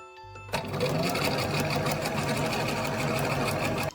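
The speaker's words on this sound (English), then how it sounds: "You want to put the needle right at the edge near the cording and then do a straight" A sewing machine runs a straight stitch along bias binding with cording on a small Barbie doll dress, a fast, even mechanical whirring with rapid needle ticks, close and steady for several seconds before it stops.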